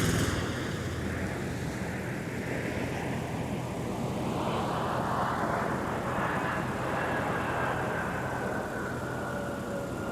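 A jet airliner takes off from a runway at MSP airport in winter, a loud, steady roar that builds and shifts in pitch as it passes, heard from a distance across the airfield.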